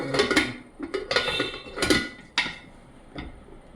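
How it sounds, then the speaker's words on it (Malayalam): Metal idli plates for beetroot idli are set into a steamer, making a series of sharp clanks and knocks, several close together early on and a few spaced hits later, loud and near with no talking. "ഞാൻ രണ്ട് തട്ട് ഇടുന്നു"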